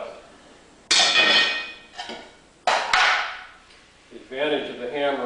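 Sharp, ringing strikes of a Storz slate hammer cutting slate against a slater's stake, two loud impacts followed by a fainter knock, close and clear, with a voice speaking near the end.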